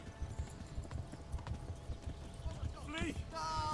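In Kingdom Come: Deliverance, a horse gallops with rhythmic hoofbeats thudding steadily beneath a game soundtrack, and a brief whinny or sweep sound rises near the end.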